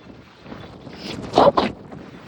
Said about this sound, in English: Dude, this wind is crazy.